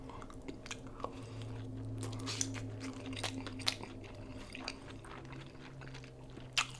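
Someone chews fried Korean mandu dumplings with a bulgogi filling, giving close, wet biting and crunching sounds in an irregular rhythm. A steady low hum runs underneath, and no one speaks.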